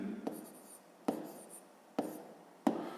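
Pen writing by hand on paper during a fifth-grade math exercise, quiet scratchy strokes in short bursts separated by sharp taps as the pen lifts and touches down, close and faint.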